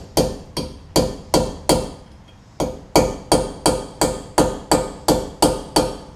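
Hammer blows strike a bit driven into a seized brake rotor screw on a Honda Fit/Jazz, landing as about fourteen sharp, loud metallic impacts in a steady rhythm, with a brief pause partway through and no talk.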